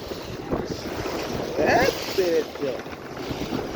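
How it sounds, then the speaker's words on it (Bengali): Rough sea waves churn and slosh nearby in the Maldives, stirred up by a passing speedboat, under steady wind noise and the boat's rumble, with a voice briefly audible in the mix. "সাগরের ঢেউ উতাল পাতাল করতেছে। এইলো উতাল পাতাল ঢেউ।"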